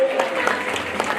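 Audience applause for a bull herder at an outdoor toro piscine bull game in Le Cres, a steady mass of clapping with mixed crowd noise and a voice audible in the background.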